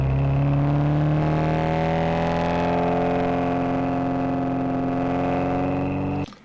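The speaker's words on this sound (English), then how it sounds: "If I just listen to the exhaust" A car's exhaust, picked up by a microphone while driving, gives a steady, loud, low droning hum with a smooth even tone that holds for several seconds before cutting off abruptly.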